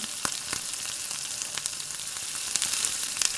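Roasted broken wheat (lapshi) tipped into a hot pan, giving a steady close sizzle with a few sharp crackles and spoon clicks, no voices.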